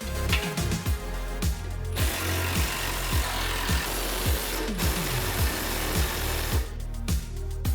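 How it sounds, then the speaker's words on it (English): Socket and wrench loosening bolts on the brace of a 2010-2014 Ford F-150 Raptor, a close series of quick metallic ratcheting clicks and rattles in bursts throughout, with no talking. "Remove the 4 bolts that's holding on this brace with a 15mm socket and 18mm wrench."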